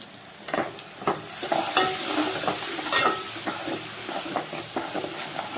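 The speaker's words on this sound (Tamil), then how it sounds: "இது கொஞ்சம் ஒட்டாமல் வதங்கணும்" Ginger garlic paste frying and sizzling in a pan while a spoon stirs and scrapes it, giving a steady hiss with repeated clinks and scrapes close by.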